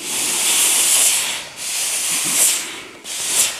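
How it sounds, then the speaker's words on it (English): Steam hisses steadily from the front of a longarm quilting machine, a loud broad rushing hiss that swells and dips in a few waves. "I can feel the steam on my legs coming out from the front of the machine"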